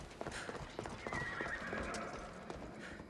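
A horse in Assassin's Creed Odyssey galloping with rapid clip-clop hoofbeats and letting out a drawn-out neigh midway, fairly close and clear with no talk over it.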